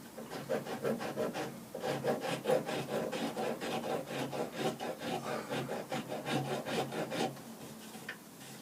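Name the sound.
sandpaper sanding a wooden walking stick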